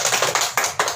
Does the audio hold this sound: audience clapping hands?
yes